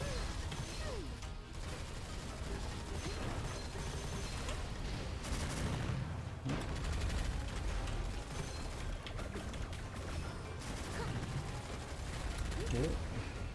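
Shells are fired in the shooter video game Gunfire Reborn by the Fox hero with a fireball build, giving a dense, continuous wash of blasts, crashes and explosive impacts with no clear gaps.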